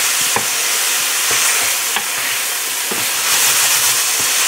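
Rib tips sauté in a pan with a steady, close hiss, while the meat is stirred and the utensil knocks the pan at roughly regular intervals.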